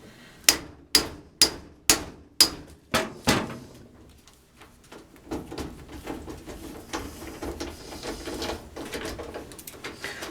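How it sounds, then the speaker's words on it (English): Six sharp hammer blows in steady rhythm strike an impact screwdriver to free an overtight screw on a GE dryer during timer replacement, close and loud, followed by quieter clicking and rustling as the screw is worked out. "when you actually hit it with the hammer, it turns the screw so you could get it out"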